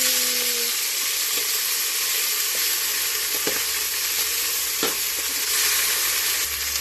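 Chopped tomato sizzles in a pan with a little oil and garlic while upo (bottle gourd) is being cooked, a loud, steady frying hiss with a few faint clicks of stirring and no talk.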